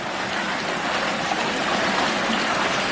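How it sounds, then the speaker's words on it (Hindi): Natural spring water flows steadily at the Chashme Shahi garden in Srinagar, Kashmir, a continuous close rushing wash with no pauses and no voices. "लेकिन नेचुरल वाटर निकल रहा है और बहुत मीठा पानी है।"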